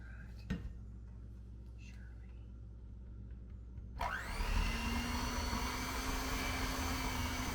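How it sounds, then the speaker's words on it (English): An electric hand mixer whirs to life partway through, a steady high-pitched motor whine beating turtle thumbprint cookie dough after a quiet stretch with light kitchen handling noise. "Trying to get it moist so we can actually use the beater,"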